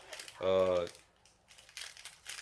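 Plastic wrapping still on a Lego toy crinkles in short rustling bursts, with a brief buzzy tone and someone talking nearby.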